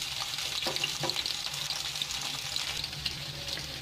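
Stuffed bitter gourd (karela) frying in oil in a pan, a steady close sizzle and crackle with a few faint scraping sounds, no voices.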